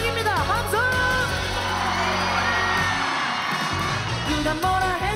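A crowd at the opening concert of a provincial sports festival cheers and whoops loudly. Sung vocals and music run underneath and rise again near the end.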